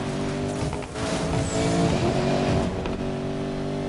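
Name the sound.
four-wheel drive car engine, video game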